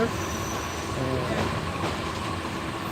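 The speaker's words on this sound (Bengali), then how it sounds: "আমরা কামরায় উঠে বসছি এই ট্রেনটি এখন যাচ্ছে জামালপুর উদ্দেশ্যে" Inside a carriage of the Bijoy Express train bound for Jamalpur, a steady low rumble and hum of the carriage with faint rattles and murmuring voices in the background.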